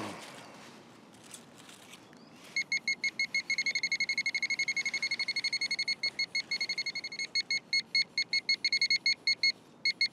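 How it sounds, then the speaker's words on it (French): A metal detector beeps rapidly after a quiet stretch, a steady high-pitched pulsing tone repeating evenly for several seconds, then breaking into irregular bursts. "Donc ça, je vais entendre un bip."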